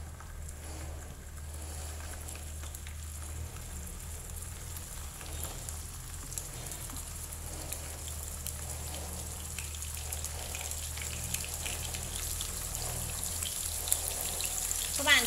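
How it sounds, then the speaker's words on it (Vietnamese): Quiet, steady sizzling and crackling of squid frying in hot oil over medium heat, with scattered pops over a low hum. "khi dầu đã nóng lên rồi thì mình sẽ cho mực vào."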